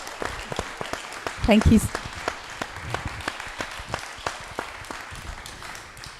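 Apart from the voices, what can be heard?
audience applause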